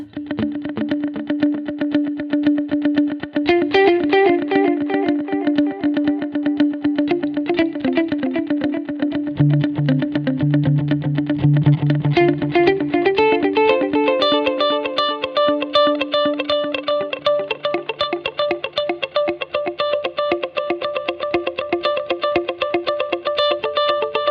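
An electric guitar plays a distorted melodic line through a NUX NDD-3 Edge Delay pedal with the mix at maximum, notes repeating and trailing behind the playing at equal volume, steady and loud throughout.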